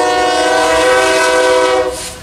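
A heavy BNSF or UP freight train on Tehachapi Pass sounds its loud multi-tone horn in one long continuous blast close by, then fades slightly at the end.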